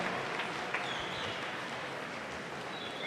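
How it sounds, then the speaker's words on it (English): Audience applause at the New Zealand Age Group Swimming Championships, honouring a freestyle record holder: steady, distant clapping from a crowd filling a large pool hall, quiet and continuous. "Round of applause for Grayson Coulter, ladies and gentlemen"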